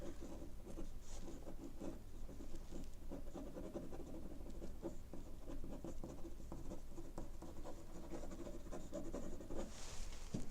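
Soft, steady scratching and pattering of a pen shading textures on paper while drawing a vase and flowers, quiet and close with fine rhythmic strokes and no talking.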